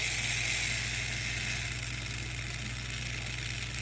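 A Fly Ferrari 250 GTO slot car fitted with a sidewinder motor runs in on a bench, giving a steady, even whir with a faint mechanical hum that holds constant throughout.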